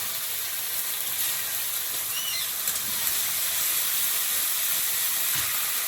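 Chopped onion, ginger and garlic sizzle in hot oil in a frying pan, a steady, close hiss that fills the clip without a break and with no voices.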